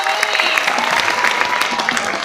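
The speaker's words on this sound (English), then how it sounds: "A big round of applause for Aisha Julka, Pooja Reddy, and Kiran" A live audience at a celebration event claps loudly and continuously, with some voices mixed into the applause.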